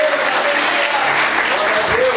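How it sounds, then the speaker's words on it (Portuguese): A church congregation applauds together during a Pentecostal service, a dense wash of clapping filling the room at steady loudness, with a voice or sung tone drifting faintly through. "Aplauda Jesus com muita alegria."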